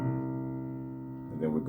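A single sustained piano note, C, struck once and left ringing with a steady, even tone, close and moderately soft, with a brief rustle at the very end.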